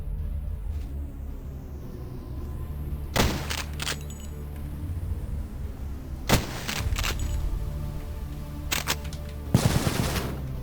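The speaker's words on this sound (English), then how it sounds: "Assault rifle." Assault rifle fire bursts out in the video game Cultic: several short, loud volleys separated by pauses, set against a low rumbling background.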